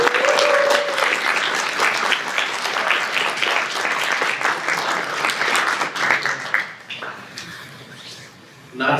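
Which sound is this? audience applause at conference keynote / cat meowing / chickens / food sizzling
audience applause at conference keynote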